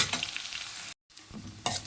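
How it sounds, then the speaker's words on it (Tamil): Curry leaves and garlic sauté in hot oil for a tomato pickle, a close, crackling sizzle with stirring, broken by a brief gap of silence before the frying resumes. "நல்லா வந்து கருவேப்பிலையும் அந்த பூண்டும் ரோஸ்ட் ஆகிற வரைக்கும் வந்து எண்ணெயிலேயே வந்து வதக்கிக்கோங்க."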